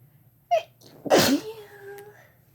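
A single sharp sneeze, close and loud, comes after a brief intake of breath and fades into a short voiced tail, with no talking around it.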